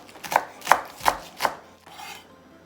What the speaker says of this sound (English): And now we just prepare spring onion and coriander.